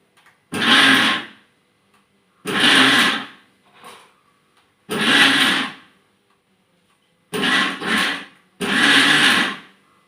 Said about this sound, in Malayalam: ആ ഗോതമ്പ് പൊടിയും ചോറും കൂടെ ഞാൻ ഉപ്പും ചേർത്ത് മിക്സിക്കകത്തിട്ട് ക്രഷ് ചെയ്തെടുത്തേ